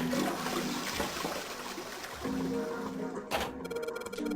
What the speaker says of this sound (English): So we're just gonna flush.